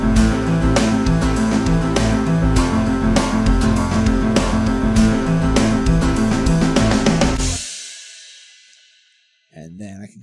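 Programmed guitar backing track played back from a music production piano roll, dense rhythmic band mix with steady beats that cuts off abruptly, followed by silence and a brief trailing sound.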